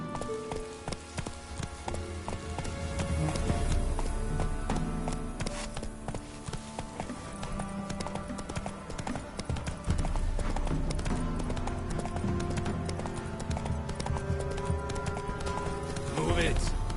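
Roach the horse galloping in The Witcher 3, rapid rhythmic hoofbeats thudding continuously and close, with a voice speaking over the running.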